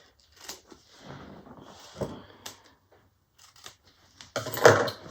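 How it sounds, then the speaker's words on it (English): Scissors snip through stiff Peltex stabilizer for a magnetic snap on a handmade bag, giving a few scattered dry cuts ending in one louder crunching cut, close and quiet. "I'm going to cut a couple pieces of Peltex"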